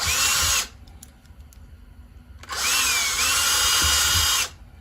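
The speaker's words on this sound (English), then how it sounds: "Just drill a hole through there and you're done." A power drill whines in two bursts while drilling a pilot hole in a 1/64 scale Kenworth W900 truck model, a short one then a longer steady run, with a quiet pause and faint clicks between.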